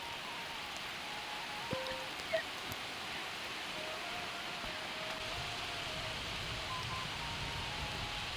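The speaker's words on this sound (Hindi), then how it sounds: "आप आवाज़ से ही देख सकते हो, पता लगा सकते हो कि कितनी ज़्यादा बारिश लगी।" Heavy rain falls steadily over a Himachal Pradesh village as an even broadband hiss, with a couple of faint brief clicks and a low rumble underneath, and no voices.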